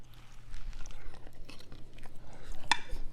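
Close, crunchy chewing of prison-style pad thai made from ramen noodles with peanut butter and green onions, with irregular bites and soft mouth clicks over a low background hum.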